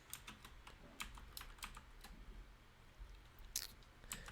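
Someone types on a computer keyboard while working in Linux, producing quiet, rapid, irregular key clicks throughout, faint and close with no talking.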